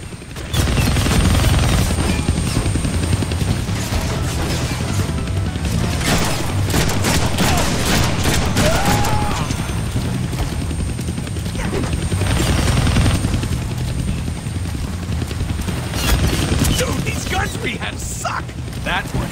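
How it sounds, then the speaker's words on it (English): Deadpool video game combat: a helicopter's rotor drone runs continuously beneath rapid bursts of automatic gunfire and booms. The din stays loud and dense throughout, with game voices occasionally mixed in. "I can't kill that chopper with my guns"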